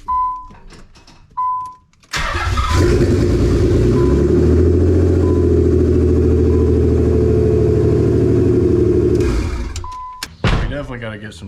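A Nissan 300ZX twin turbo engine cranks and catches, then holds a loud, steady idle for several seconds before cutting off, with short beeps and clicks before and after the run.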